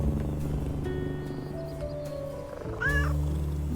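Black cat meowing in the Little Kitty, Big City video game, a short rising meow standing out near the end over steady game music.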